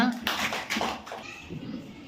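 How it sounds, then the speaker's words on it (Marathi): Children in a second-grade classroom clap in a few short bursts, mixed with kids' voices talking nearby. "व्हेरी गुड टाळ्या"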